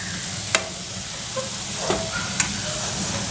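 Malpuri batter frying in hot oil gives a soft, steady sizzle and hiss, with a few faint pops and crackles breaking through at intervals.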